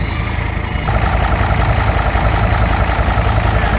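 Close, steady idle from a car engine with over 200,000 km, a low rumbling drone; a brief quieter moment at the start before the running settles into an even hum.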